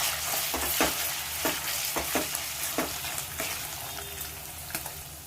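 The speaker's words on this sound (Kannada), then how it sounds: "ಅದು ಸ್ವಲ್ಪ ಲೈಟಾಗಿ ಫ್ರೈ ಮಾಡ್ಕೊಳ್ಳೋಣ." Cubes of paneer frying lightly in oil in a pan give a steady close sizzle, broken by a string of soft scraping stir strokes at irregular intervals, with no voices.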